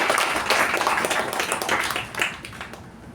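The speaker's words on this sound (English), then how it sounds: "So I think we have to give them a big round of applause." A Toastmasters installation ceremony audience gives a round of applause, many hands clapping briskly and fairly loudly at first, then thinning out and fading toward the end.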